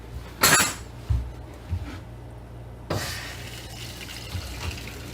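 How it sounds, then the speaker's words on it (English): Water rushing through a newly installed six-stage reverse osmosis filter system as the supply is turned on, a steady faint hiss and trickle with a few sharp clunks and gurgles, no talking. "we're going to go ahead and turn on the water supply, and we're going to go ahead and let this flush out until the water runs clear"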